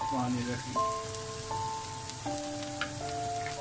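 Marinated goat liver (kaleji) tipped into fried onion paste in hot oil: a steady, close hiss of sizzling runs throughout, with background music playing softly over it.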